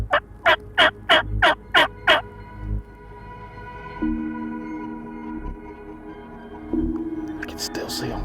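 A wild turkey gobbles in six rapid, loud bursts at the start, then the outdoor scene turns to a quieter hum and faint rustling.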